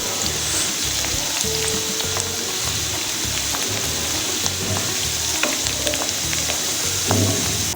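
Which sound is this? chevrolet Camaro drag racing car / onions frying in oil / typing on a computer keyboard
onions frying in oil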